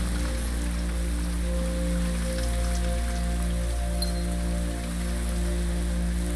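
Steady rain falls in the video game Blue Prince, a constant even wash of drops with a low droning hum of game ambience beneath, no voices present.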